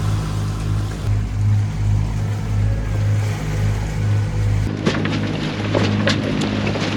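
A boat engine drones steadily nearby over the wash of open ocean off Mozambique, its low hum rising and shifting as the vessel passes.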